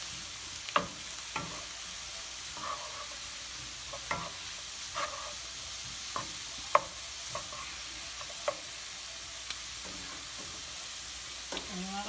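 Mushrooms and vegetables seasoned with garlic powder and salt fry in a pan, giving a continuous sizzle with regular light scrapes and taps of stirring throughout.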